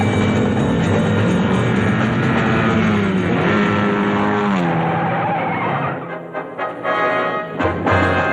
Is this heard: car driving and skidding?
yes